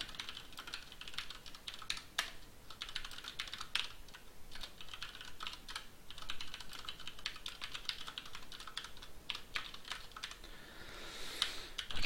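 Fingers type on a computer keyboard during software coding, a close run of irregular, rapid clicking keystrokes with brief pauses and no speech.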